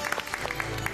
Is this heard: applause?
yes